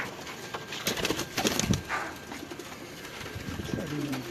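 Prized fancy pigeons in a loft in Lahore coo softly at close range, with some wing flutters and faint background voices.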